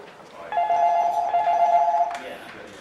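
A telephone rings once in an office taking calls from licensed buskers booking pitches, a bright trilling ring lasting about a second and a half over low background murmur.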